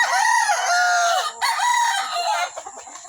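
A game farm rooster crows loudly and close, two drawn-out cock-a-doodle-doo calls back to back, followed by a few short clucks at the end.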